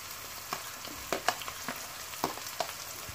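Tomato dropped into spices frying in a pan for a dried fish bhuna, a quiet crackling sizzle broken by a few sharp pops and stirring clicks.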